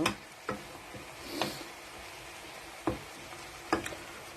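Vegetables for ratatouille cook over low heat in a pan, a soft steady sizzle broken by occasional scraping stirs and clicks of a utensil, close and quiet.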